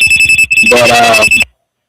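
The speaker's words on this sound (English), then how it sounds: "but the bat phone's ringing" A phone rings loudly in a short electronic trill during a radio show, a brief burst of rapid ringing that cuts off abruptly into silence.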